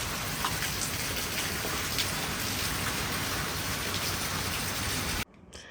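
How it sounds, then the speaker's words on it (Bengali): Heavy rain pouring down in a dense, loud, unbroken hiss that drums on surfaces nearby, then cuts off abruptly near the end, with no voices. "অনেকদিন পর ভালোই বৃষ্টি হচ্ছে"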